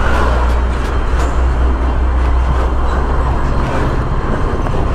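Hino 500 truck engine rumbling steadily as heavy diesel traffic noise, with dense low-end drone and broadband road roar throughout, no clear revving changes.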